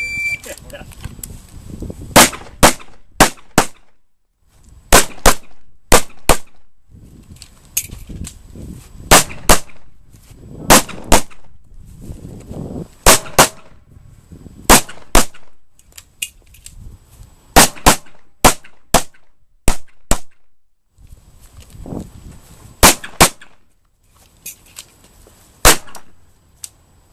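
Pistol gunshots ring out during a USPSA practical shooting stage in November, sharp loud reports in rapid strings of two to four with brief pauses between bursts, under faint background talk and movement.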